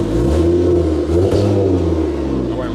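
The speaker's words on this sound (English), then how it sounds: "I'll give it a little bit of a rev." The engine of a wrecked Porsche GT4 at a salvage auction is revved once, a deep close-up growl that rises in pitch, peaks and settles back toward idle, steady and loud throughout.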